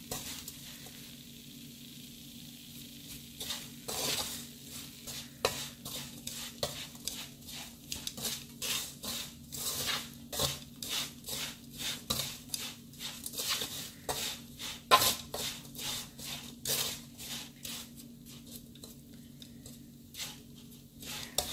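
Sugared ginger jam pieces are stirred in a hot pan, giving quiet, steady scraping and clinking of a utensil against the pan with light sizzling, repeated in uneven strokes and heard alone.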